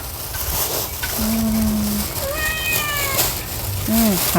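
A cat meows a few times, short rising and falling cries spaced apart, with a person talking quietly nearby.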